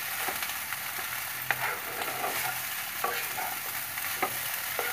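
A spoon stirs kanda poha with peanuts in a pan over a soft constant sizzle, with scattered scraping taps against the metal.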